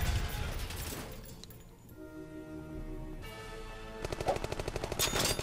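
Rapid automatic gunfire in the video game On the Rain-Slick Precipice of Darkness: a loud burst of shots opens, a quieter lull with tonal game sounds follows, then another close rattling volley.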